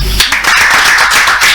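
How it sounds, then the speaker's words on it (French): Audience clapping at a French speaker showcase event, a dense, loud burst of many hands starting after a brief low thump and continuing steadily for over a second. "je voudrais qu'on applaudisse ça beaucoup."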